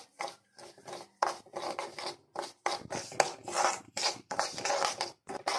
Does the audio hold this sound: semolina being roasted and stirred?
yes